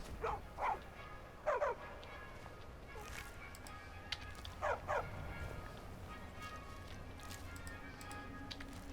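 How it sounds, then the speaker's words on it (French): A small dog in the video game Skyrim gives several short, sharp barks and yips in pairs, moderately loud over a steady ambient game background, with no speech. "Il est brave ce petit chien."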